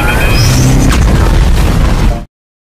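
A bomb blast from the Deadpool 2 film, throwing two characters out of the Icebox prison: a loud, sustained roaring explosion with rumbling low end and debris, cutting off abruptly to silence.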